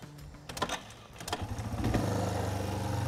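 A motorcycle engine starts on gravel ahead of a stunt-riding turn: a few sharp cranking bursts, then a steady, close idle rumble that settles in and keeps running.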